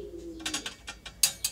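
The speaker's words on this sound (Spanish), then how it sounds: "Tengo dos para enseñar los palomas." Pigeons in a loft coo softly, a low sustained coo followed by several short, brighter bursts and rustles close by, with no talk.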